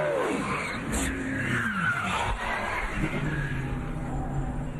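A NASCAR race car spins out mid-corner, its engine roaring and tires squealing and skidding in a loud, sustained rush amid track noise.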